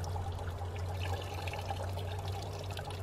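Water poured into a copper kettle fitted with a wooden filter and plug while brewing medieval hopped beer, a steady close pouring and trickling wash with a constant low hum beneath, no talk.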